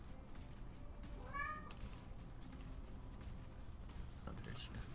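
A kitty meows once in a rising, wavering call near mid-clip, heard over game audio and room noise with a faint voice in the background.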